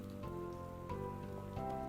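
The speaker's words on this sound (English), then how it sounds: "It's wet again, and I'm cold again. It's just rain." Rain in the video game Night in the Woods, a steady patter on surfaces over a soft tonal music bed, continuous and moderately quiet with no talking.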